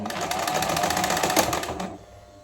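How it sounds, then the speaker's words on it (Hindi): A sewing machine runs a fast, even chatter of stitches along the edge of lining fabric for about two seconds, then stops abruptly, leaving a faint hum. "पलटने के बाद जो हमारा लाइनिंग फैब्रिक है उस पर हमें किनारे की सिलाई लगानी"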